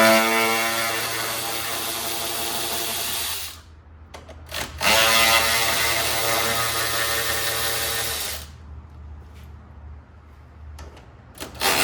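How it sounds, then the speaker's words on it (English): A power tool whirs steadily while bolts are removed from a Bronco's intake, with a sharp stop and brief clicks before the whirring resumes. It stays close and loud, then cuts off, leaving quiet clicks. "One of them guys, 8 milli, the ratchet."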